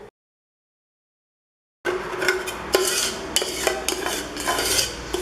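Vanilla ice cream mix is stirred continuously in a container, with soft scraping and light clinks of a utensil against the sides, steady and close, no talking.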